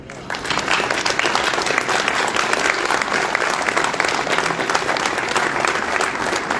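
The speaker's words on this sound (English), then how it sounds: "please join me in a round of applause and thanks for 50 years of service for Mr. Bob Trebethick" Loud, sustained applause filling a room at a sports association banquet honoring fifty years of service, dense and continuous clapping from a large audience throughout.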